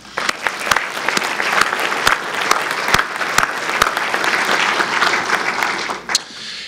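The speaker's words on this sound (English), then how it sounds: "Let's have a round of applause for Teresa and Tracy." An audience at a chamber of commerce awards celebration breaks into steady applause that holds for several seconds, close and full, with a few sharp louder claps standing out before it tapers off.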